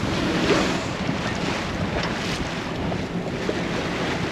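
Steady wind and breaking waves around a sailing yacht underway in a 15-20 knot breeze, a continuous broadband rush with mic wind buffeting, no voices.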